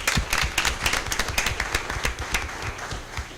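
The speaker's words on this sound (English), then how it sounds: "So we'll give her a round of applause for sure." Audience applause for a teacher at a school board meeting, a steady run of claps from a modest group, close and even, continuing throughout without talk.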